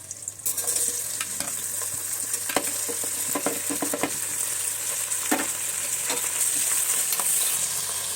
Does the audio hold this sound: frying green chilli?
yes